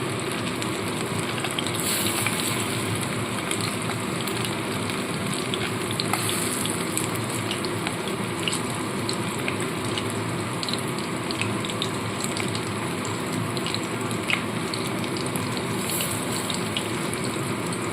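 Amudi fish, coated in rice flour for crispness, fry in hot oil Digha style: a continuous, even sizzle holds steady throughout at moderate loudness with no talking.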